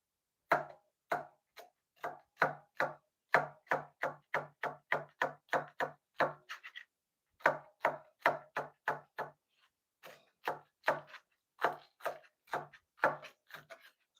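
A knife chops mushrooms, peppers and onions on a cutting board in quick, steady runs of crisp taps, close and clean with no talking, broken by a few short pauses.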